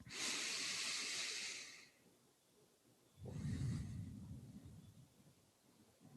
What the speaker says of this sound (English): I take a deep breath